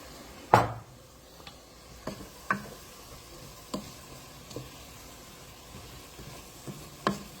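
Red wine simmering in a pot of beef and bean soup makes a faint, low hiss, broken by scattered light ticks and clinks of utensils against the pot.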